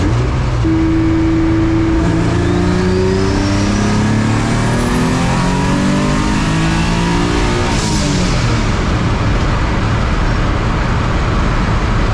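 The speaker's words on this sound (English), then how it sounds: "So I'll just do a pull and third gear, I guess." Mazda MX-3 engine pulling at full throttle in third gear, a loud continuous rising rev climbing for about eight seconds before a sudden lift off throttle, followed by steady road and wind roar, heard from inside the car.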